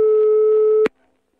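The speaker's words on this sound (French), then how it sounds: "je choisis le coup de téléphone à un ami" A single telephone line tone while calling a friend, a loud steady electronic hum lasting under a second, cut off by a sharp click and followed by near silence.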